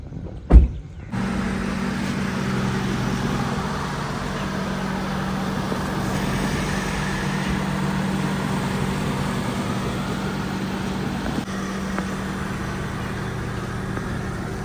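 Car engine running steadily after a brief thump, a low, constant hum as the car is driven out of a large house, close and even throughout, with no talking.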